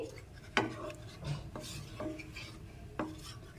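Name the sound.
stirring milk powder into liquid milk for gulab jamun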